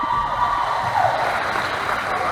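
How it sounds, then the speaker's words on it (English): A women's team crowd at a basketball match applauds a player, a continuous wash of clapping and cheering noise that stays steady and moderately loud throughout. "the ladies are giving him a warm round of applause"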